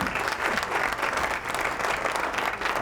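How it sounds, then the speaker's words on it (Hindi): Audience applause at a televised Ramadan quiz competition, dense, loud, continuous clapping from a studio crowd that holds steady throughout with no talk over it. "तालियां हो जाए इनके लिए।"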